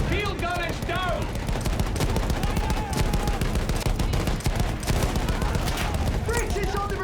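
Sustained suppressing gunfire from a Battlefield 1 battle, dense rifle and machine-gun shots rattling continuously at close range, with shouted voices and battlefield noise mixed in throughout.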